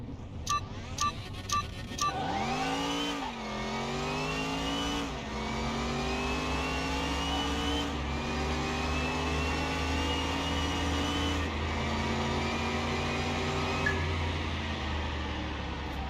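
A Ferrari F50 GT and a rival car race in a car mechanic simulator game, engines revving hard through rising gear changes with steady acceleration whine, loud and continuous after a few brief clicks at the start.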